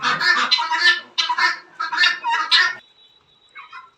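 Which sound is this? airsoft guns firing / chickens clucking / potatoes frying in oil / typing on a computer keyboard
chickens clucking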